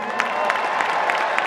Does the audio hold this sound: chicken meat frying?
no